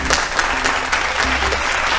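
A studio audience on a family game show claps loudly and steadily, with individual hand claps standing out in the dense applause throughout.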